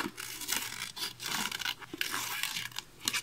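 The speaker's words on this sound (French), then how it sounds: "Et donc ceux de Tim Holtz, je vais vous montrer la coupe" Tim Holtz scissors cutting scrapbooking paper, a series of close crisp snips and rustling paper tearing sounds in irregular bursts, with no voices.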